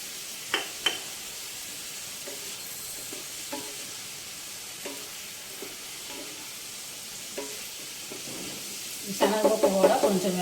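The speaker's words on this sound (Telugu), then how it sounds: "ఇప్పుడు ఇందులో ఉడకబెట్టిన శనగపప్పు అండి, ఇది వేసేసుకుందాం." Boiled chana dal goes into cabbage frying in a pan, with a soft steady sizzle under occasional light taps and scrapes of a spoon. A louder spell of stirring and crackling comes at the end.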